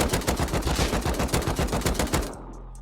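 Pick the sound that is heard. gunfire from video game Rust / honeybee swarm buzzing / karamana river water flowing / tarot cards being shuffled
gunfire from video game Rust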